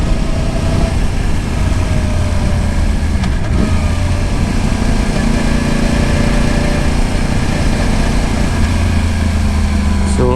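A Yamaha YZF R1 sportbike rolling off the throttle and engine braking, its engine droning loudly and steadily with a high-pitched whine and constant wind rush, close up from the rider's position.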